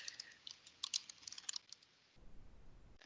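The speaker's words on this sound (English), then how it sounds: "I'm like typing everything wrong." Someone types on a computer keyboard in a quick, uneven burst of close clicky keystrokes, then stops, leaving a low rumble.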